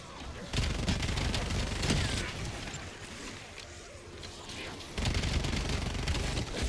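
Dense, rapid gunfire fills the whole stretch in Black Ops 7 zombies mode, loud bursts of automatic weapon fire rolling almost without pause, easing briefly in the middle before surging again.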